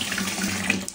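A strong, forceful stream of water gushes from a tap in a comfort room, a dense continuous rush that holds steady and loud throughout, then tapers slightly at the end, with no talking.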